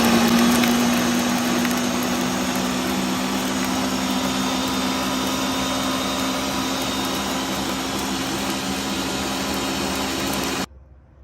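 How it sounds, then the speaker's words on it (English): A blender grinds tomatoes, crayfish and pepper with a loud, steady motor whine and churning roar running for about ten seconds before switching off abruptly, close by and without talk. "So I have to blend it now. So it's time to blend it right."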